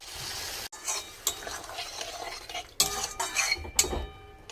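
A lid is set down on a cooking pan of onion and mushroom curry that has just had water added, giving a few close metallic clinks and knocks over a soft kitchen background.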